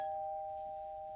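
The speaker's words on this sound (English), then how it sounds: "That was my doorbell." A doorbell chimes once with a clear, sustained electronic tone that slowly fades, heard alone in a quiet indoor room.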